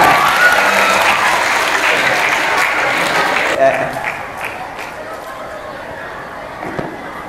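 An audience at a school reading and writing workshop claps loudly and steadily. The applause holds for about three and a half seconds, then fades quickly to scattered claps and quiet room noise.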